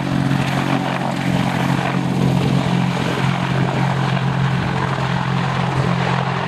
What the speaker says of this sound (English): the Apache helicopter is not just one of the most potent weapons platforms available today, but is also a highly agile helicopter